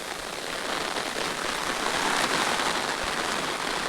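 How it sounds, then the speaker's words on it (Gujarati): Steady rain pours down outdoors in a rural livestock setting, a dense, even hiss of drops hitting surfaces that holds close and loud throughout, with no voices. "ઘડીકમાં તો વરસાદ પણ આવી ગયો છે."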